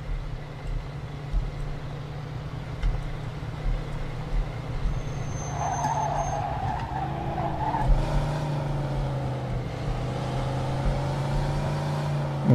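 A car in the video game Mafia II speeds downhill with a steady engine drone and road rumble, some rising whine and tire noise mid-way, continuous and moderately loud without speech.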